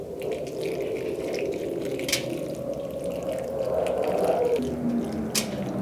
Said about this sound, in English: I'm going to slowly pour this on top.